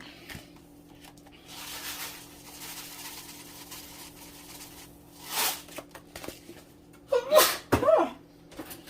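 A couple of sharp sneezes ring out near the end over quiet rustling and a faint background hum, preceded by a smaller sniff-like burst, while seasoning with dried thyme.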